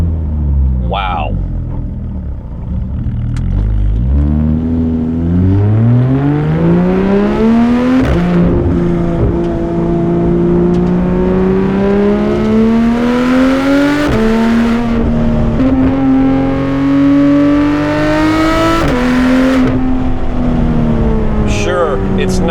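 A Porsche 911 GT3 RS of the 991 generation with PDK gearbox accelerates hard from the driver's seat, its exhaust howl climbing through rising revs with quick upshifts, loud and close throughout.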